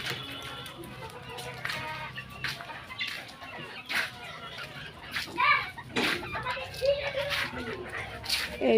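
Chickens clucking inside a netted enclosure, with scattered short calls and scuffling near the listener while someone talks over them.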